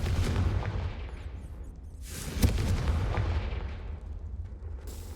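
The Confringo fire spell explodes in Hogwarts Legacy, a deep booming blast with a sharp crack at its peak, then a long rumbling decay, loud and close, with no talk.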